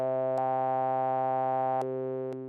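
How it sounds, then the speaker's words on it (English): A pulse generator fed straight into a switched resonant filter of a formant synth module modeled on a 1960s Bell Labs design gives a steady buzzing harmonic tone, with a few abrupt clicks as the filter frequency switches and the timbre shifts. "So now I'm putting the pulse generator signal directly into the first filter and switching the frequency with the switches"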